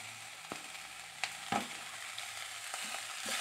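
Capsicum fries in a pan over a medium flame with a soft, even sizzle, broken by a few sharp utensil taps and scrapes, close but quiet, with no speech.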